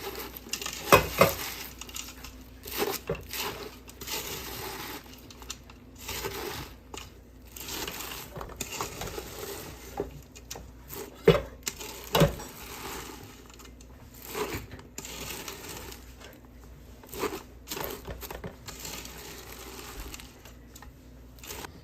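Peanut butter cornflake mixture pressed flat in a pan with a utensil, giving scattered scrapes, taps and clinks of metal against the pan, with quiet gaps between them.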